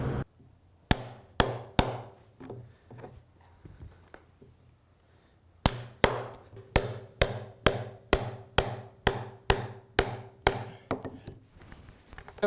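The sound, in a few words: hammers striking a chunk of buried metal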